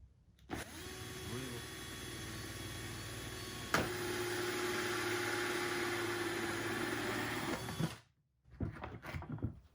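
Power drill whirring steadily into a chest model used for anatomy training, a loud continuous motor drone lasting about seven seconds with a sharp bump partway through, then stopping abruptly before brief faint handling noises.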